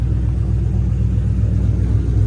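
A Ford Mustang engine idles smoothly and steadily at close range, a continuous low rumble with an even rhythmic pulse and no ticking, running alone without voices for the whole stretch.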